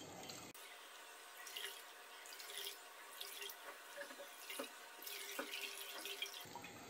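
Steady running tap water splashing into a sink as fresh chhena paneer curds are rinsed to remove lemon sourness, a continuous close wash of water with small surges and drips and no voices.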